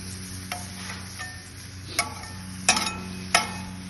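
Venison browns in a pan over a campfire, a faint, low sizzle with a few sharp ticks and metallic clinks scattered through it.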